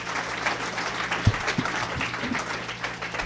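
An audience claps warmly to welcome architect Antony Wood to the stage at a morning lecture, the applause steady and moderately distant over a few seconds.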